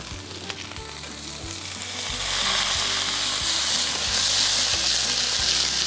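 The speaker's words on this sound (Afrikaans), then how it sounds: "Frikadelle is in die pan." Venison frikadelle meatballs frying in a hot pan give a loud, steady, close sizzle that swells slightly and holds throughout, with no talking.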